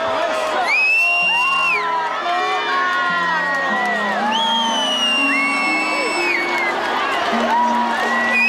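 A festival crowd whoops, shouts and cheers as a triumphal papier-mâché float is stormed and torn apart, loud and close, with high excited voices rising and falling in waves.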